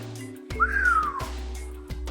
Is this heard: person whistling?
yes